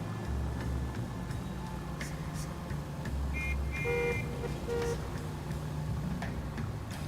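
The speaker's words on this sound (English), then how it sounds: "Don't honk at me." Car horn honks in the LA Noire video game, a couple of short tonal blasts over steady engine and city traffic noise during a drive.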